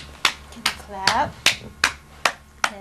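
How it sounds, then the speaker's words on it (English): Hands clap in a patty cake game at a birthday gathering, about seven sharp, evenly spaced claps close by, with a brief voice sounding between them. "Clap."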